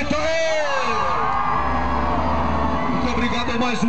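An outdoor crowd at a public event in Ortigueira shouts and whoops together, a loud sustained burst of voices rising and falling across several seconds, with some cries standing out above the mass.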